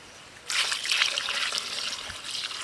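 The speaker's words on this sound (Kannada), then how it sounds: "ಚಿಕನಿಗೆ ನೀರು ಹಾಕಿ ವಾಶ್ ಮಾಡ್ಕೊತೀವಿ." Water is poured over raw chicken to wash it, a steady trickle and splash that starts abruptly and runs continuously, close and moderately soft, with no talking.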